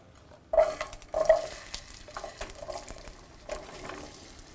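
Potato wedges frying in oil left in a pan after cooking a moose roast, with close sizzling and a few sharp bursts of spitting as pieces go into the hot fat, settling into a steady crackle.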